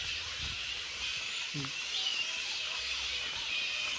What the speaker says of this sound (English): Thousands and thousands of sugar bats.